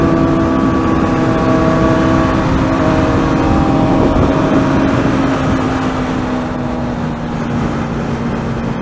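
A KTM Duke 390 motorcycle being ridden, its engine drone loud and steady throughout with a sustained tone that slowly dips in pitch, mixed with wind noise.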